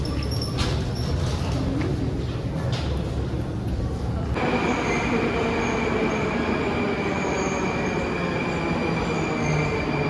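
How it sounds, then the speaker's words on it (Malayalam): A metro train in Russia rumbles loudly and continuously, its wheels squealing as it runs along the track, with a steady high whine. "നമ്മളിത് മെട്രോയിൽ കയറി അടുത്ത സ്റ്റേഷനെത്തി."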